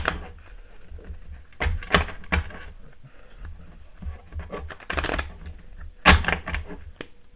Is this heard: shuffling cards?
yes